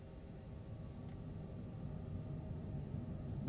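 Jet engines spooling up toward takeoff power in a flight simulator, Cessna CJ4 or Boeing 748, a faint steady low rumble and hum building gradually, with no talk.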